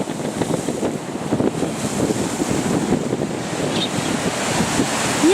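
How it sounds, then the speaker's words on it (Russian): Strong wind roars against the microphone over high waves crashing and surging nearby, a constant heavy wash with no talk. "Какие волны!"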